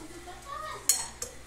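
A spoon scooping beans onto a plate, a quick bright metallic clink followed by a softer second one, with a voice talking briefly underneath.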